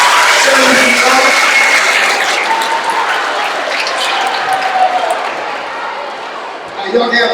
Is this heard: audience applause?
yes